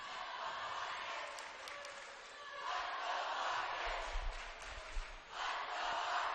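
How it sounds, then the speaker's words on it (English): Pep crowd at a high school boys basketball game, Argos versus Oregon Davis, roaring in a loud sustained din with rising bursts of cheering and scattered sharp shouts across the gym. "the pep crowd is just beyond loud tonight"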